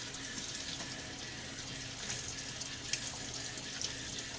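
Tap water runs steadily into a sink while rinsing lather off a shaving brush, a continuous close splashing flow with a few small spatters and no talk.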